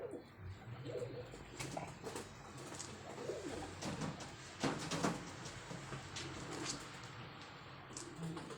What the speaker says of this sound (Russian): Мы подкармливаем здесь голубей на кондиционер